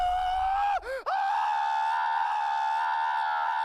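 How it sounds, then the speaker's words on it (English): A man lets out a long, sustained terrified scream, holding one high pitch with a brief wavering break near the start, loud and alone. "he lets out a long, terrified scream"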